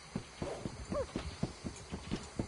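Horse hooves clip-clopping at a steady walking rhythm, about ten distinct knocks, fairly close and moderately loud outdoors, with no talk over them.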